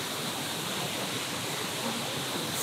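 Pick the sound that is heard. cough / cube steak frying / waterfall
waterfall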